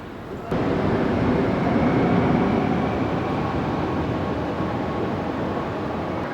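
A metro train in Rome arrives with a sudden rise into a loud, steady rumbling roar that holds throughout, close by and without voices.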